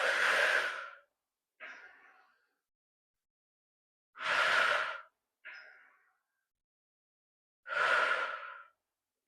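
Breathing during a reformer Pilates exercise: three close, loud breath cycles, each a long strong exhale followed by a softer, shorter inhale, evenly spaced with near-silent gaps between.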